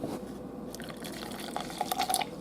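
Blended homemade vegetable soup pours from a container, with a run of liquid splashes and scattered drips growing busier toward the end, close and moderately quiet, with no speech.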